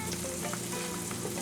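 Bacon sizzles steadily in a frying pan as eggs are being cooked, a dense, continuous crackle with small pops running through the whole stretch at an even, close-up level, with no talking over it.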